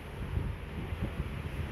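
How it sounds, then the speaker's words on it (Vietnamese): Wind gusting outdoors during rainy weather, a steady low rumbling buffet with irregular thumps of wind against the microphone. "thì hôm nay mưa gió nhá"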